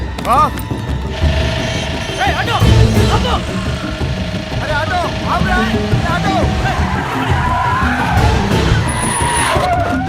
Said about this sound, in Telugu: ఆటో వెళ్ళిపోతుంది